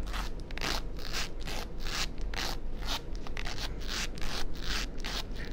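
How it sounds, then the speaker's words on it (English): The zipper of a Michael Kors bag is pulled back and forth in quick, close, rasping strokes, a rapid series of harsh scratchy zips with no talking. "The zipper is so bad. Listen to that zipper."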